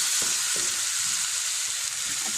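A soy sauce and vinegar mixture is stirred in a hot pan for aloo Manchurian, giving a loud, steady sizzling hiss with soft scraping strokes underneath and no talking.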